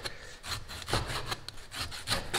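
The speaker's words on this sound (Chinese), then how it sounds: "把它切成片，" A knife slices skinned pork shoulder into pieces, giving a close series of repeated scraping, rasping strokes against the cutting surface, with no voices.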